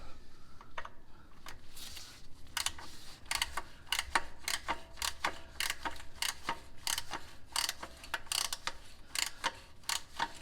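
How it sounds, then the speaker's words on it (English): A ratchet snugging down the oil drain plug on a 2009-2013 Toyota Corolla, rapid bursts of sharp metallic clicking repeated in quick strokes, close and fairly quiet, no talk. "I am going to snug it down with the ratchet"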